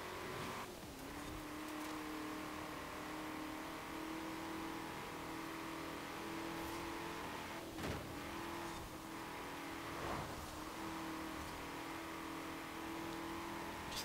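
Race car engines in Forza Horizon 4 roar steadily at a street scene marathon race, a sustained loud drone with a few sharper surges as cars pull away together.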